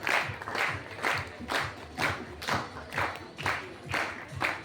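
Audience at an annual prize distribution function at GGTE Dharamshala applauding as a student comes onto the stage, steady rhythmic clapping in regular pulses from a crowd in a hall.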